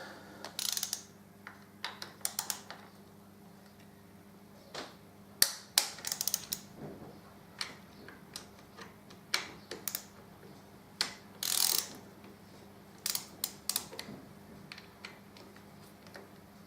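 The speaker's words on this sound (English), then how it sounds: "just get your torque wrench set. As I say, 12 Newton meters." Torque wrench ratchet set to 12 Newton meters clicking during a service on a Harley Davidson 88ci engine, with close, crisp bursts of ratcheting clicks in irregular runs over a steady background hum.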